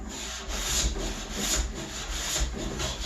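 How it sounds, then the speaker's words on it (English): A jointer planes rough milled lumber for a king bed frame, producing a quiet, steady rushing cut with rhythmic swells as the board passes over the cutterhead. "see how long it takes to joint this"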